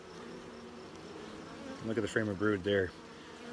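Honey bees hum around an open hive during a brood inspection, a steady low drone running throughout, with someone speaking close over it in the latter half.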